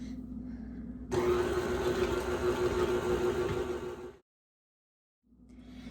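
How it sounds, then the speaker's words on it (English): An electric mixer whirs steadily through blueberry cake batter for about three seconds, a loud, even motor drone with a faint rattle, starting abruptly and cutting off before a quiet gap. "I'm gonna mix it for about 20 seconds just to make sure there's no butter chunks in there"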